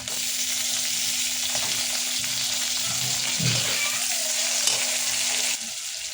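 Tomatoes fry with browned onion in a pan, giving a steady soft sizzle with a few light stirring scrapes. It holds at an even level and quiets near the end. No talking.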